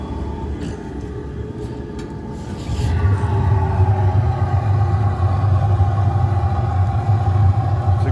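A waste oil heater burns with its flame diverted by brake rotors, giving a continuous low roaring rumble that steps up noticeably louder a few seconds in and then stays steady.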